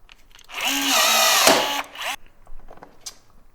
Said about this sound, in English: Just bought a brand new rivet gun.